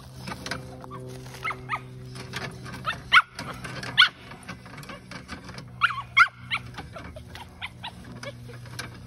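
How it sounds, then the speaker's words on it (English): An excited dog whimpers and gives short barks beside a camper trailer being set up. The whines and yelps come in uneven bursts over a steady low hum, with a few sharper, louder barks standing out. "This is when the dog gets excited."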